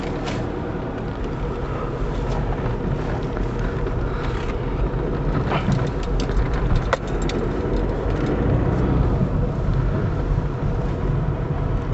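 Volkswagen Cross Polo four-cylinder 1500 cc diesel car setting off on a drive, a steady low engine and road rumble running throughout at a constant close level, with no talk.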